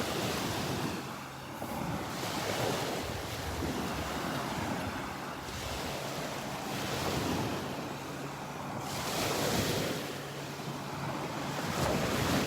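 Ocean waves roll onto the beach at Wiggins Pass on an outgoing tide, surging in soft swells every few seconds with steady wind noise across the microphone.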